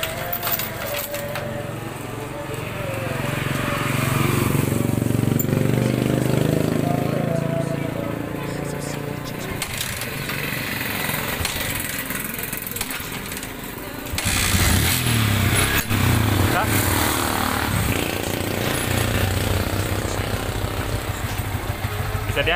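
A motorcycle with a worn SSS sprocket and chain set, after two years and five months of use, idles with a low steady engine rumble and clunks into gear, while someone talks over it throughout.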